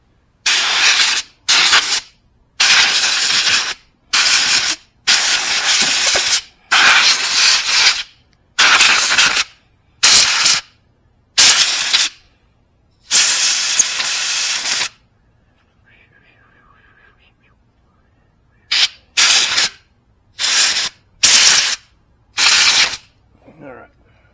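Compressed air at full blast cleaning a plastic carburetor from a Briggs & Stratton engine, loud hissing bursts of a second or so in rapid repeated series, a quiet pause, then more bursts.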